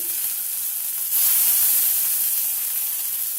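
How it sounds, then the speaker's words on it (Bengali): Nigella seeds and sliced onion frying in hot oil in a pan after hilsa fish and lentil dumplings were fried, a steady loud sizzle that swells partway through, with no talking. "দুখানা লঙ্কা দিয়ে একটু পেঁয়াজ আর কালো জিরের সাথে ভেজে নিলাম"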